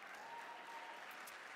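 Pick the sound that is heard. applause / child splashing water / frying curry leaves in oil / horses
applause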